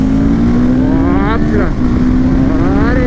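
A 2023 CFMOTO 700 CLX Adventure motorcycle's engine with a short exhaust mounted just at the engine outlet, revving loud and close with a rising, tonal pitch. Speech is heard briefly over it.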